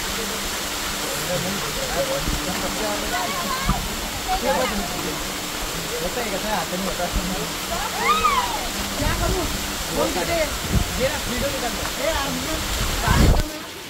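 Milki Bar waterfall gives off a steady, broad roar of rushing water throughout, close and loud, while people talk over it.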